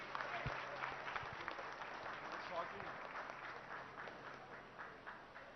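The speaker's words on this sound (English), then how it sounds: "Could we give a big round of applause to him" A crowd applauds steadily, a dense wash of many hands clapping at a moderate distance, holding even throughout.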